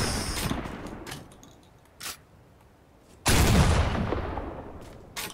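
A weapon firing in Fortnite: a few sharp shots early, a brief burst near the middle, then a loud heavy blast that rings out and slowly decays, with one more short hit at the end.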